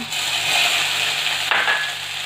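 Grated ginger and chopped green chillies frying in hot oil with mustard seeds and a pinch of asafoetida, a loud, steady close sizzle with a brief stirring scrape midway.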